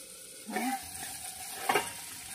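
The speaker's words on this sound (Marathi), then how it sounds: "तो कढीपत्ता त्यात टाकायचा म्हणजे तळून निघतो" Curry leaves frying in hot oil for a Maharashtrian gavar thecha, a steady soft sizzle with two brief louder bursts of crackling as leaves hit the pan and are stirred, close and fairly quiet, no talking.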